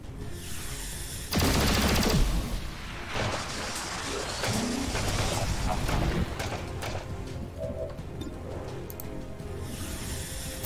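Rifle fire in the XCOM 2 tactical game: a loud burst of shots with a crash, layered over dense battle ambience and game effects that continue throughout at a steady, noisy level.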